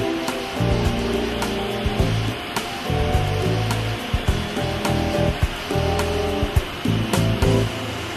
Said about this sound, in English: We're on the machine shop floor of Implant Direct. What you see here are 26 CNC machines